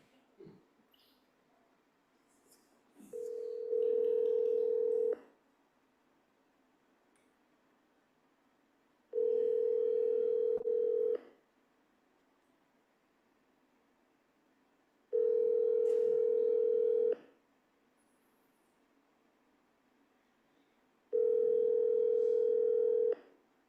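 Telephone ringback tone heard while calling a real estate agent: four evenly spaced, steady two-second rings with about four seconds of quiet between them, clear and close, with no speech.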